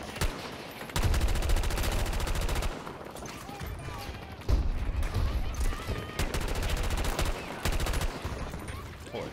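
Video game gunfire from a team of shooters comes as sustained bursts of rapid automatic fire. Long volleys start and stop at close range, with brief pauses between them and talk running underneath.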